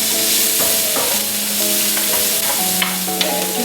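Onion sautéing in a pan while being pushed around with a wooden spoon, a steady bright sizzle with occasional stirring knocks, under a sustained tonal background hum.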